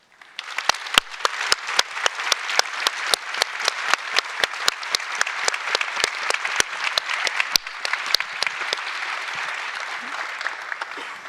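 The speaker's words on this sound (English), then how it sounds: "join us in acknowledging them and their work with a round of applause" Audience at a water-sector opening ceremony gives a sustained round of applause, a dense even patter of many hands with sharp individual claps standing out, tapering slightly near the end.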